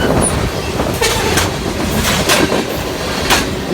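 CP Rail oil tanker train rolling past on tracks that visibly flex up and down, steady loud rumble with rhythmic clickety-clack of wheels and faint wheel squeal, close by and without talk.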